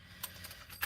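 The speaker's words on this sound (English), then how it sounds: "Keys." Keys jangle close by in a quiet space after a car has been switched off, with two short metallic bursts of rattling separated by softer, faint shuffling.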